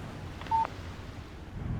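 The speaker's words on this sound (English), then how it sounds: "Text message from Barry" A short electronic phone text-message alert chimes once in the Alan Wake video game, a brief tonal beep heard close and alone over a low ambient rumble.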